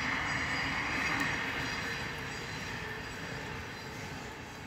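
A train passes near a fishing lake, a steady broadband rumble of wheels on rails that stays loud and even and then eases slightly toward the end, with no voices.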